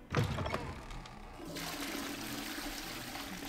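A toilet flushes inside the video game Hogwarts Legacy: a sharp gush of water swells up suddenly, then settles into a steady rushing and refilling hiss. The flush is heard alone and is fairly close.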